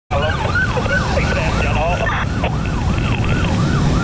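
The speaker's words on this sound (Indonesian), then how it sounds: "Ada ambulan dari timur." An ambulance siren wails loudly and close by, its rising and falling tone repeating steadily over traffic rumble.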